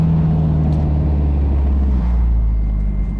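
Engine of a boosted Honda S2000 running steadily while the clutch is worked, a loud continuous low drone with a faint high whine, close up and without talk.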